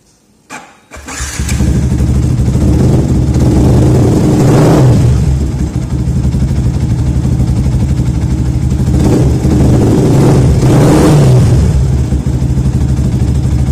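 A Yamaha Vixion motorcycle engine cranks and starts, then idles loud and close with a steady four-stroke rumble, swelling in several revving bursts before settling back, with no talking.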